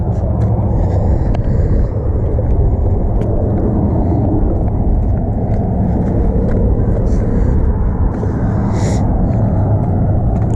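A drift car rolling down the freeway, heard as a loud continuous low road and engine rumble with steady wind roar throughout and no talking.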